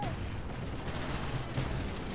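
Rapid, continuous gunfire roars from a Call of Duty Black Ops match on PC, a dense, loud barrage of shots with no break across the whole moment.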